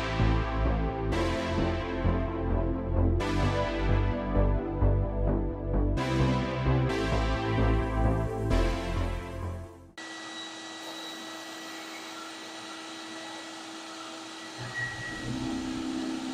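A sandblast cabinet strips paint from metal door hinges with a continuous harsh hiss of blasting media, loud and close, preceded by a stretch of louder, uneven mechanical noise.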